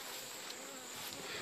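Honeybees buzz steadily at close range beside beehives treated with formic acid, a continuous drone with no voices over it.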